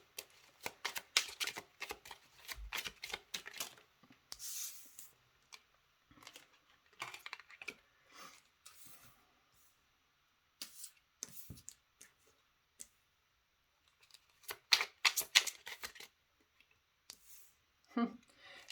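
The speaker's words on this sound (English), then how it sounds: "this is why we like to shuffle on camera" Tarot cards riffle and click in quick, crisp shuffling bursts separated by quiet pauses, with occasional brief voice sounds between them.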